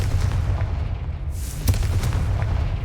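The Confringo explosive spell in Hogwarts Legacy bursts with loud, deep booming blasts, a heavy rumbling low end punctuated by sharp cracks and a bright whooshing flare, with no voices.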